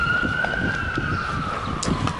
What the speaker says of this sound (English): fire truck or police, I don't know who the hell is making that noise when I'm recording a video